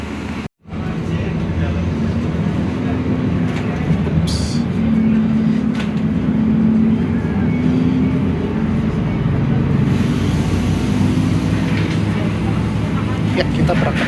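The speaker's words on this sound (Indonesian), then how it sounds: "kita menggunakan bus Mercedes-Benz Metro Trans" Interior ride aboard a Mercedes-Benz Metro Trans TransJakarta bus departing Terminal Depok Baru in the rain, with a steady low engine drone and road rumble continuing throughout after a brief silent moment at the start.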